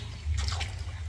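Cooking oil pours into a kadai, a brief liquid splash and trickle that swells for about half a second before trailing off, heard up close and alone over a low background hum.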